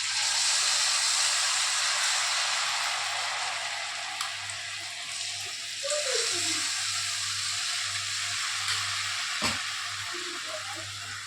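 Wheat appam batter sizzles and fries steadily in hot oil over a low flame, a continuous close bubbling hiss with a few soft clinks and stirring sounds.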